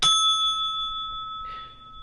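Bicycle-style bell sound effect: one bright ring that sustains and fades, followed by a softer second ding, clean and alone.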